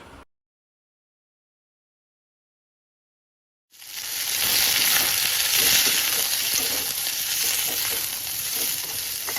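Chopped onions frying in a pan: after a brief sound and a few seconds of silence, a loud, close, steady sizzle starts and carries on with faint stirring underneath.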